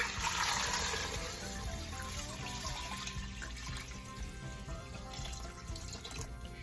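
Water runs steadily from a tap, splashing and trickling into a pot for boiling corn at close range, a continuous gentle rush with no voices.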